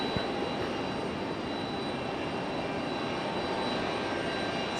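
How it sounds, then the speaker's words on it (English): A JetBlue Airbus A220 jet at Raleigh-Durham International Airport produces a steady, even engine roar with a thin high whine, holding constant throughout with no voices. "This is our 4th JetBlue A220 of the day"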